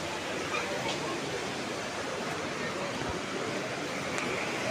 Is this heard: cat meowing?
no